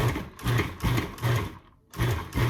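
A blender pulsing chunks of green salsa ingredients, short whirring bursts in a steady on-off rhythm, close and fairly quiet, with a brief silent pause before the last bursts.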